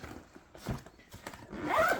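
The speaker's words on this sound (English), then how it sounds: "I'm glad it zips all the way down" Zipper being pulled on a Kenozen Arctos 45L backpack, a series of quick scratchy zipping strokes building into a louder, close-up rasp near the end, with no talk.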